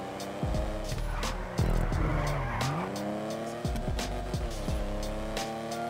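A car in GTA 5 on PC revs hard with sweeping engine pitch while its tires squeal and skid repeatedly, loud and close throughout the short run of parkour driving.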